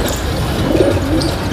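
A fancy fantail pigeon coos close by, a loud, low, throaty warble that lasts only a moment with no voices over it.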